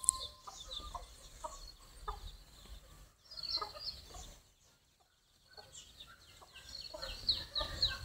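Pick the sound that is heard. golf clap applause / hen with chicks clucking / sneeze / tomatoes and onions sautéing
hen with chicks clucking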